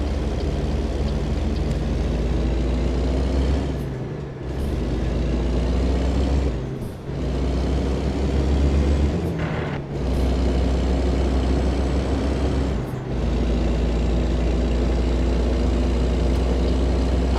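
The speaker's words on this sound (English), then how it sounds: "the sound of the truck versus everything else that's in the game, I like a lot better." Kenworth W900 truck engine in American Truck Simulator, a deep steady diesel drone with brief dips where gears shift, loud and close, running alone without speech.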